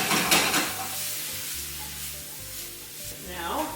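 Food sizzling steadily in a pan at close range, a continuous bright frying hiss with occasional stirring scrapes and no voices.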